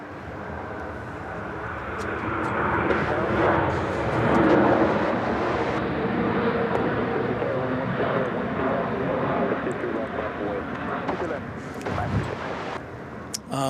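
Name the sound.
Boeing 737-800 airliner landing at Indianapolis Airport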